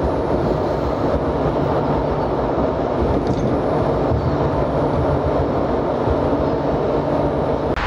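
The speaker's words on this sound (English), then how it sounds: "it's the city tram, which goes straight down and will get you there in about 5 minutes" A city tram rides through Warsaw, a continuous rumbling roll with rattling and faint squeals heard from inside, steady and fairly loud throughout.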